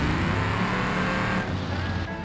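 A loud, rough car engine in the video game BeamNG, exhaust torn off, roars steadily, raspy and unmuffled, with the pitch dropping slightly partway through.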